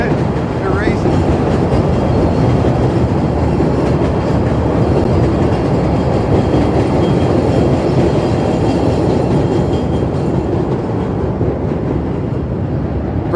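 Chicago L Brown and Purple Line elevated trains pass close by on a city street with the Red Line beneath, a steady loud rumble of wheels on rails and rattling cars filling the whole stretch, occasional faint clatter over a constant roar.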